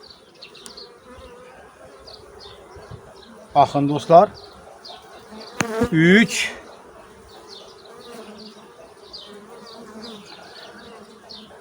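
A honeybee colony in an opened beehive gives off a steady, close droning buzz throughout, while someone speaks briefly over it.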